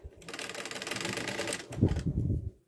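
Domestic sewing machine stitching washable fabric wipes, a fast whirring run of needle strokes that stops, then a short lower-pitched rattle close by.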